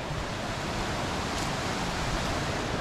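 Steady broadband rush of creek water flowing along a muddy bank in Lamington National Park, continuous and close, with no voices over it.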